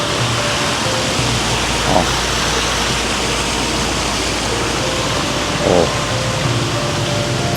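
Water gushes from a leaking pipe beside a village street in Terengganu as a loud, steady, close rush of hiss and spatter. A man briefly exclaims over it.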